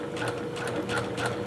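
A sewing machine stitches a knit T-shirt shoulder seam, running steadily up close with a fast, even mechanical whir and rattle throughout.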